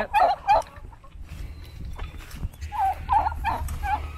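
Chickens cluck in short bursts close by, a few calls early and more near the end, over a low outdoor rumble.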